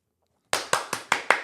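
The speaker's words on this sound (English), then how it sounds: "Thanks for the clap, Ethan." A single person claps five times in a steady rhythm after a moment of silence, each clap sharp, close and loud with no talking.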